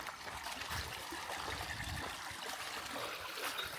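Canal water runs out of a pipe outdoors in a continuous, fairly soft trickling flow with small gurgles, steady throughout and without speech.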